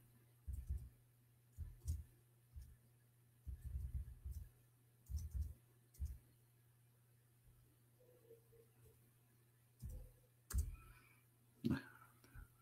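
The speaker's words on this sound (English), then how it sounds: "this typer is very slow" Slow typing on a keyboard produces sparse, spaced-out clicks in small irregular bursts over a faint electrical hum.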